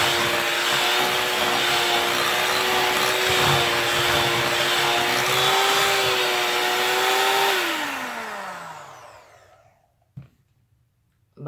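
An electric hand mixer beats a cheese-and-pineapple cake batter, a loud steady motor whine running alone for several seconds before winding down and stopping, followed by a brief clunk.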